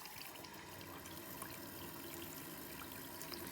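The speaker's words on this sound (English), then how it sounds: "I swish it around a little bit" Knitted wool is swished around in a 1970s sink filled with water, a soft steady sloshing and trickling close by, quiet and continuous with no voices.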